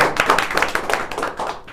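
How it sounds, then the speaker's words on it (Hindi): A roomful of people applaud together to welcome franchisees at a Team 360 company gathering, a steady, close patter of many hands clapping at an even pace. "मैं तालियां बजा करके अपन सब इनका स्वागत करते हैं जो फ्रेंचाइजीज आई है"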